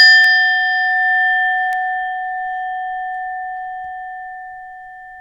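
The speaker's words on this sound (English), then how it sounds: "tune into the singing bowl for a few seconds as I chime it." A singing bowl is struck once and rings with a sustained, pure tone that decays slowly, with a faint second tap early on and nothing else heard.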